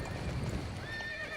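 Galloping horse in Dynasty Warriors 9, a steady rapid clatter of hooves up close, followed by a brief whinny near the end, with no talk.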